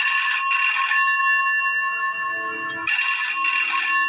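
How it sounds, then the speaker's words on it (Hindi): A shrill electronic ringing in two bursts separated by a short pause, loud and close, like a room telephone ringing with no one speaking. "और तभी कमरे का फोन बजा"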